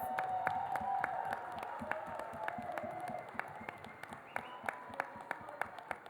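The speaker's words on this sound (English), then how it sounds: "we need to give Carmen and MJ and their entire team of volunteers a massive round of applause" Scattered clapping from the audience at a charity dance gala, faint and distant: a thin patter of hands that thins out into a few separate, sharper claps toward the end.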